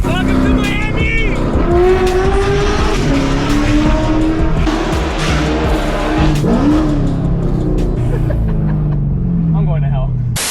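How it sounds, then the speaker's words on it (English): Sixth-generation Chevrolet Camaro 2SS 1LE V8 driving in Miami, loud close engine pulling through rising revs and shifts with tire noise, while people talk over it. "We are going to be driving this 6th generation Camaro 2SS 1LE."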